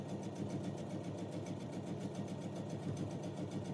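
A sewing machine stitching fabric for a Christmas Santa sack, running at a steady fast pace with a rapid, even mechanical needle rhythm, close and continuous without pause.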